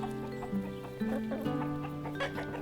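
Several chickens on a permaculture farm cluck and croon close by in a steady, overlapping chatter with no voices.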